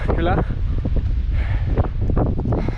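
Strong wind buffets the microphone in a steady roar at the top of Col de la Gueulaz near Chamonix while a person speaks over it.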